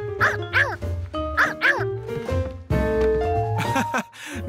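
A very young cartoon otter pup calling with a series of high, squeaky yips and whimpering cries, loud and close, bunched in quick pairs before a longer whining call.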